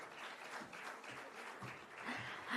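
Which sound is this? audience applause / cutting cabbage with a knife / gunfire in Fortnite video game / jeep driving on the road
audience applause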